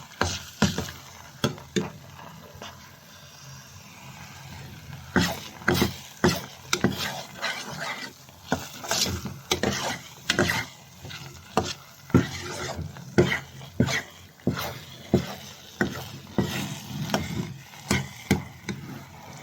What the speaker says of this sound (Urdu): ابھی اس کو ایسے فرائی کرنا ہے